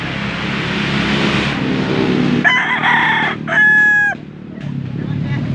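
A rooster crows loudly nearby at a market in Angeles, Pampanga, a strained, wavering call rising out of steady background engine noise and murmuring voices.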